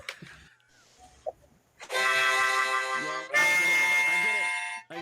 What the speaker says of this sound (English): It's a harmonica.